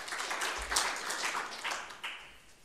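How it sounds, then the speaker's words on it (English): Faint applause from an audience at a formal EU–Ukraine Association Agreement event, a soft, diffuse patter of many hands that tapers off after a couple of seconds. "A round of applause might be in order"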